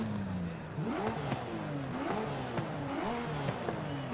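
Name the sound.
Porsche Cayman GT4 RS engine revving, Forza Horizon 5 video game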